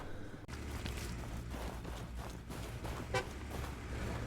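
A vehicle horn toots briefly in the WWII shooter Hell Let Loose, a short honk over constant engine rumble, scattered footsteps and battle noise.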